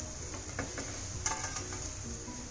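Raw banana tikki frying in a little ghee makes a steady, close sizzle throughout, with a few faint scraping clicks from a spatula.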